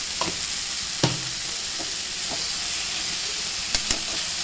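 Tomato thokku with chilli masala sizzles steadily in a pan, a constant frying hiss broken by a few sharp scrapes and taps of a stirring spoon, with no voices.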